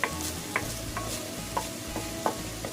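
Butter is added to a hot pan with crushed ground beef, giving a continuous sizzle broken by regular sharp taps and scrapes of a stirring utensil.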